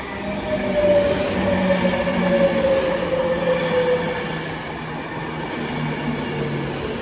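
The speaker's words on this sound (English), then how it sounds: "Here comes the 1634 Avanti West Coast service to London Euston." An Avanti West Coast passenger train pulls into a station in Manchester, a steady rolling rumble of wheels on rail with a long metallic squeal running through it, holding close and loud the whole way.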